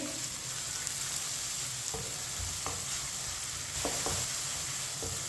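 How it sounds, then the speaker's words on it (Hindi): Finely chopped onion and crushed garlic fry and sizzle over medium heat while a spoon stirs them, giving a constant hiss with occasional scraping knocks of the spoon. "इसे ऐसे ही चम्मच चलाते हुए हल्का सा ब्राउन करना है,"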